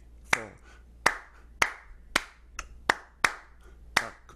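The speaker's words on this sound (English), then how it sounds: "So I started clapping quarter notes there for a second." Hands clap steady quarter notes, about seven sharp, evenly spaced claps over a few seconds, close and clear with nothing else sounding.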